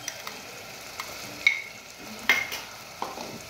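Ground masala paste being stirred into fried onions and mutton fat in a pan, soft sizzling under a few sharp spoon scrapes and clinks spaced across the clip.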